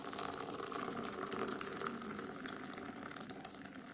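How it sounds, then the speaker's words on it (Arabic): Two cups of boiling water are poured over cumin and fennel seeds, a steady close splashing gush that runs continuously for several seconds. "ننزل عليهم كده يا جماعه بكوبايتين ميه مغليه"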